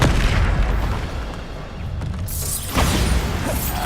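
Bombarda spell blasts in Hogwarts Legacy: dense, rumbling explosive bursts with a sharp new blast near the end, loud and close amid ongoing game noise.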